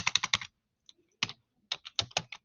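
Someone types on a computer keyboard in short bursts of quick, crisp key clicks separated by brief pauses, close and fairly quiet with no talking.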